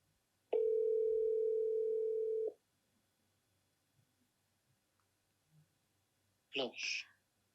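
A regular outgoing phone call gives one steady ringback tone lasting about two seconds, followed by quiet and then a short burst of a person speaking.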